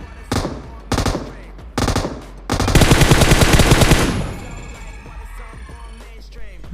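Gunfire rings out in a mobile battle-royale shooter game: three separate loud shots come first, then a sustained rapid automatic burst, which trails off into quieter echoing background.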